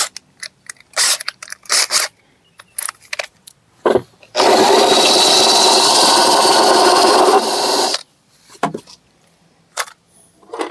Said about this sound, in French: on va percer avec un diamètre plus gros pour pouvoir passer les fiches